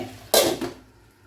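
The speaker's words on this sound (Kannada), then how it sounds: "ನಾನೀಗ ಲಿಡ್ ಮುಚ್ಚಿ ಬೇಯಿಸ್ತೇನೆ." A metal lid is set down onto a cooking pan for chicken dry, a single close clattering clank that rings briefly and fades.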